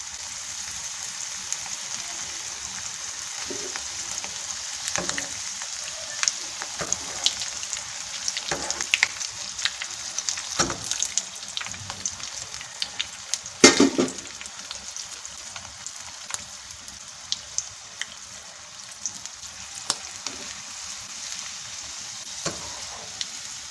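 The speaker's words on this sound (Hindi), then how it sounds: "ये अब हम समोसे जो हैं फ्राई कर रहे हैं" Aloo samosas deep fry in hot oil, a dense, continuous crackling sizzle with scattered sharper pops and one louder burst partway through, steady and close with no talk.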